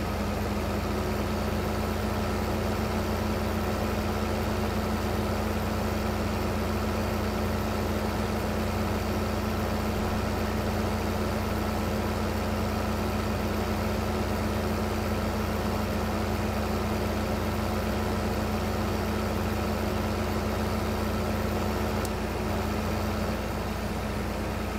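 Tractor engine in Farming Simulator 15 idling and running steadily, a low constant drone with a tonal hum that stays unchanged throughout.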